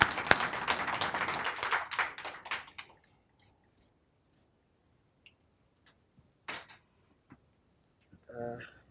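An audience at a graduation ceremony claps for a speaker coming to the stage, a dense burst that fades out after about three seconds, followed by quiet with a few scattered clicks and a brief sound at the end.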